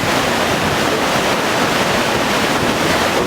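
The Ganga rushes through a Himalayan valley with a dense, steady roar of water, loud and close throughout with no break.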